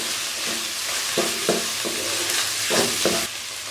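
Ginger-garlic paste sizzles steadily in a hot pan for aloo keema, with several distinct scraping stirs of a spoon cutting through the frying hiss, close and moderately loud.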